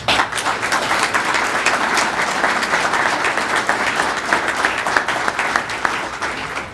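A crowd applauds steadily for several seconds at an awards ceremony, dense continuous clapping at a fairly loud level with no voices over it.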